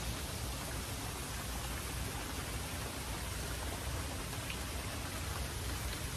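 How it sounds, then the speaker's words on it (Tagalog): Steady rain falls outdoors on an adventure outing, a soft, even hiss of drops that holds without a break throughout. "Pero kahit na umuulan, naggora kami."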